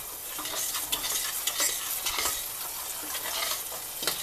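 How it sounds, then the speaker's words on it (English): Flour cooks in a hot pan for a cheese sauce, stirred with a utensil that scrapes and taps repeatedly while a continuous crackling sizzle runs underneath, close and steady. "Cook the flour just a little bit before I add the milk and the cheese."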